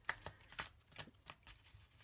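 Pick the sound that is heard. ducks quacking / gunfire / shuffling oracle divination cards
shuffling oracle divination cards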